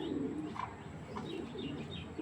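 Large racing pigeons coo softly and faintly in a loft, with a few low murmuring calls and light chirps against quiet background hiss.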